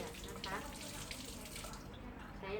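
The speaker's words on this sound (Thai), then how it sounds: "ก็ใช้หลังมือในการเปิดน้ำลาดน้ำให้ดี" Tap water runs steadily into a sink for hand washing as part of preparing for a twin-bag peritoneal dialysis fluid exchange, a continuous close splashing hiss throughout.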